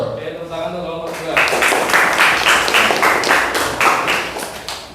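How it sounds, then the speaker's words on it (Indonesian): A group in a school classroom gets a round of applause after a class presentation, scattered hand claps rising after a spoken intro and continuing for several seconds at moderate distance. "tepuk tangan untuk kelompok 2"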